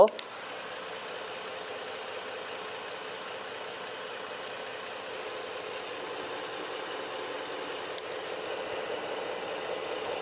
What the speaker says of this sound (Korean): 이제 이 차량 제가 바로 엔진 소리 한번 살펴봐 드릴게요.